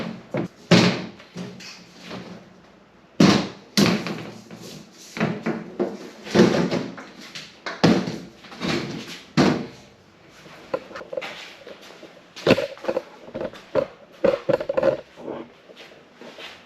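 Hinged portable solar panel, an ECO-WORTHY 195W bifacial model, being folded and opened repeatedly. It gives irregular close clunks, knocks and scraping thuds with brief gaps between the movements.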